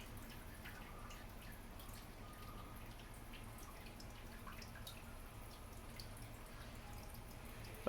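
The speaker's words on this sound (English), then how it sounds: "I'm going to just switch on this dripper so that you see that I'm actually getting water up here." Steady, quiet patter of water drips and trickling from a Smartdrip automatic plant watering dripper, continuous and faint, with no voices.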